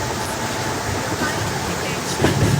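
In an Indian train simulator game, a double-decker train races a WD-5 locomotive, producing a steady, dense rumbling roar of rolling trains that swells slightly near the end.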